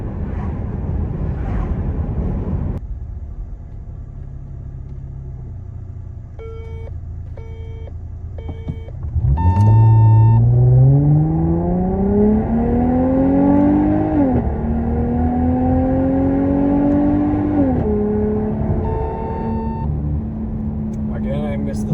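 A 2016 Dodge Charger with a 3.6 engine accelerating hard from rest, idle giving way to a loud rising engine whine through several gear changes, close and steady, with electronic beeps from a track timer and no talking.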